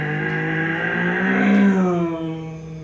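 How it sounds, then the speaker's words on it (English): A single car sweeps past close by, its steady engine drone rising and then falling in pitch as it goes, loud and alone with no voices. "the car moves past you"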